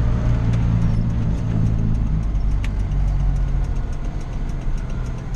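An old Mazda T4000 truck engine driving in first gear with an empty trailer, a loud, close, steady diesel rumble with a slightly knocking, uneven texture running throughout.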